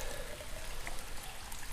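Water pouring in a steady, close trickling stream for under two seconds, with no talking.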